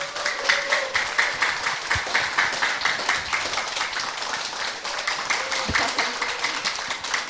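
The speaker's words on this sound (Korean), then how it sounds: "여러분 박수로 환영해 주시기 바랍니다." Audience applause welcomes a poet at a Korean poetry event, a sustained patter of clapping of moderate loudness that carries on for several seconds.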